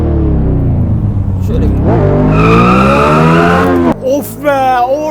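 Engine of a Tofaş car making a U-turn in Euro Truck Simulator 2, a loud sustained revving drone that rises in pitch, then cuts off briefly before climbing again, with a voice talking over it.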